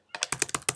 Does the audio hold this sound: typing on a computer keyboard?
yes